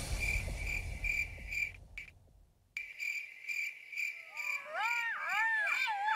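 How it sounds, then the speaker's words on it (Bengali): Crickets chirp steadily and shrilly at night in a dense forest, with a brief break in the middle, and a higher warbling animal call joins near the end. "চারিদিকে ঝিঝি পোকার ডাক"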